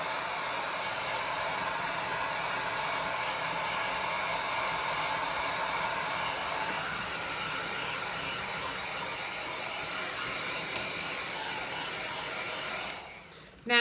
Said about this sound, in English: So I'm going to hit it with the heat a little bit.